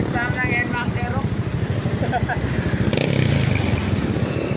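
Yamaha Mio motorcycle with a 63 bore fuel-injected engine running steadily up close, its even low throb continuous throughout with faint voices in the background.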